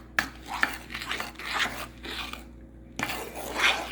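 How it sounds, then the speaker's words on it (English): Ingredients for chocolate mousse being mixed in a bowl, giving a series of scraping, clinking strokes with short pauses between them, close and fairly quiet, with no talking. "We're going to mix this together."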